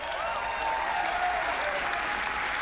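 Audience applause at a Ubisoft E3 2019 press conference, a steady wash of many hands clapping from a large crowd, loud and continuous throughout with no voices on top.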